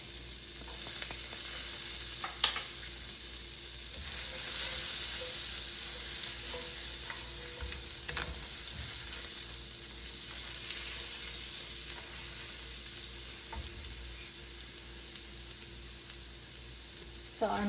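Garlic fries in butter in a pan with a steady, even sizzle that holds throughout, with a couple of soft utensil taps partway through.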